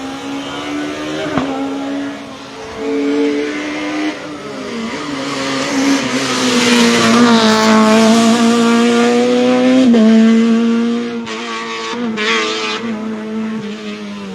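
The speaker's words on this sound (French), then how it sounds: "ça ronfle une 106" A Peugeot 106 race car at the Pourville-sur-Mer hill climb roars past, its engine rising and falling through revs as it accelerates and shifts, loud and close, then fading as it pulls away.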